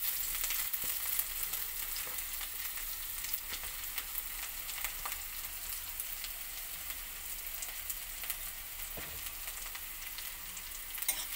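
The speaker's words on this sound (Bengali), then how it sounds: "একসঙ্গে ভেজে নেবো লাল করে" Chopped onion and green chili frying in oil for aloo chop, a dense continuous hiss and crackle of sizzling close by, fairly even throughout with occasional faint clicks of stirring, no voices.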